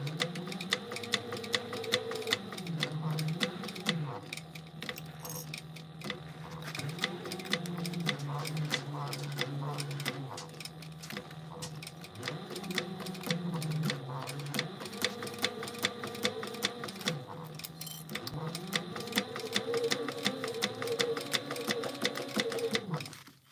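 A sewing machine back stitches a mini backpack, its fast rhythmic needle chatter rising and falling in short runs, with brief pauses between bursts and a voice talking over it at times.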